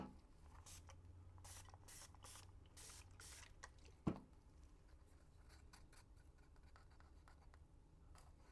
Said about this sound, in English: Nope, I sprayed alcohol.